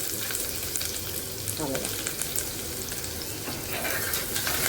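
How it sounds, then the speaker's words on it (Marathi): Finely chopped onion hits hot oil with garlic as the base for a spicy sprouted field bean curry, giving a steady, close, dense sizzle with a short spoken phrase over it. "बारीक चिरलेला कांदा आहे ना तो फोडणीसाठी घालूया."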